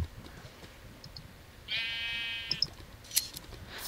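A sheep in the video game Minecraft gives one clear, fairly loud bleat near the middle, set against quiet background game noise and a few soft clicks.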